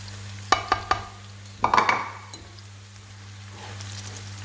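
Onions and masala fry in oil in a pot while being stirred, giving a soft, continuous sizzle under a few sharp scraping clatters of the spoon against the pan. The clatters come in two close bursts, with steady hum in between.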